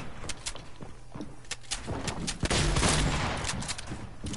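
Gunfire in the game Fortnite, with a run of sharp shots coming at irregular intervals and a denser burst of fire near the end.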